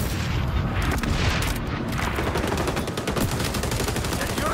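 Grenade explosions and rapid gunfire in a video game fill the stretch, dense continuous bursts of shots and booms, loud and close with faint game voice callouts mixed in.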